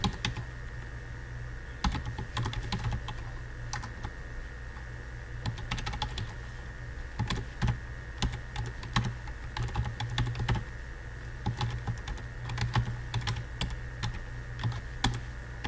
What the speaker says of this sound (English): here you can just simply type in your name.